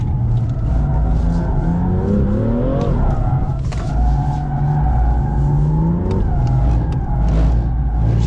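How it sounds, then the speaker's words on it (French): A BMW M2 engine screams hard in third gear while drifting on a dry track at a driving centre, loud and continuous, pitch sweeping up and dropping with brief tire squeal. "j'ai tiré exprès la troisième au maximum. On a pris 150 en troisième"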